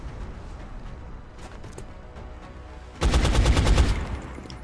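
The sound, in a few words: gunshot in a video game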